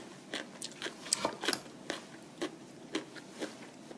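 Crunchy bites and chewing of pickled radish (mu jangajji) made from dongchimi radish, a series of close, irregular crisp crunches over about four seconds with no talking.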